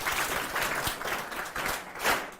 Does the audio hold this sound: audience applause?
yes